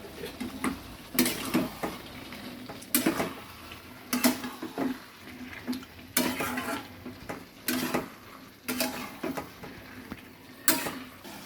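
A utensil scrapes and clatters in a hot pan of fried pointed gourd and prawns with potatoes, sounding as repeated close metallic strokes at a steady pace under a faint sizzle.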